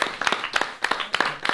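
Audience clapping for a freestyle rap battle performer, a short burst of scattered, uneven hand claps from a small group nearby, brief and moderately loud.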